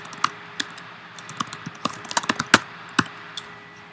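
Typing on a computer keyboard, loud and close, with irregular clattering keystrokes in quick bursts over a quiet hum and no voices.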